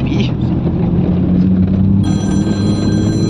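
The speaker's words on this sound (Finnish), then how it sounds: "Aha, faija soittaa." A telephone rings with an incoming call, its bright tonal ringing starting partway through and continuing steadily, close and loud over a busy background of low rumble and voices.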